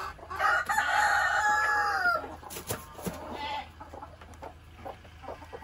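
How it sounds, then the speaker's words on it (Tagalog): Rooster crowing loudly and close by in a long drawn-out call, followed by scattered clucks and small bird sounds from a flock of farmyard chickens, no talking. "ang daming manok"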